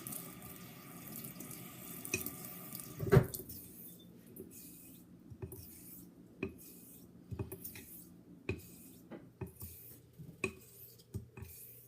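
A tap runs at a steady rush for a few seconds, then shuts off, followed by scattered light clinks and taps nearby in the quiet.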